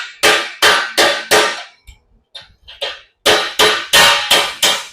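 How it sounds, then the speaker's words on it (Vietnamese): A hammer strikes a welded stainless steel sheet in sharp, ringing metallic blows: three quick hits, a pause with lighter taps, then five more loud strikes in steady rhythm, close and alone. "em cầm em gõ cái inox của em nãy nè"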